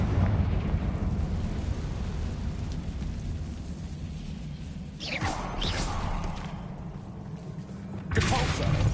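A spell blast from the Hogwarts Legacy video game erupts as a sudden whooshing explosion with a rushing burst and crackle, followed by a second burst near the end, over a low continuous game rumble.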